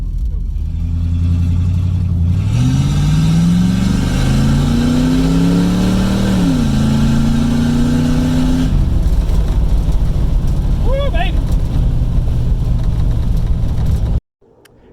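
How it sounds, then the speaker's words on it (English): A C3 Corvette engine on a road test drive roars loudly and close, rising and falling through revs as it accelerates, then settles into a steady drone before cutting off abruptly near the end. "we just finished up taking her on a test drive"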